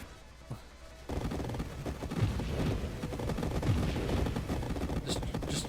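Dense, continuous rapid-fire bullet shots from a space shooter game, Nova Drift, with a ship running a chaotic swarm-style weapon build, loud and sustained after a quieter opening second.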